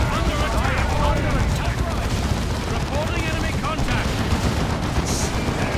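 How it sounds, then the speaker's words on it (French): Rapid gunfire from a Dawn of War 2 Elite Mod 1v1 battle, dense overlapping shots and bursts that run continuously at close range with game speech mixed in. "Ici ça tire sur le véhicule."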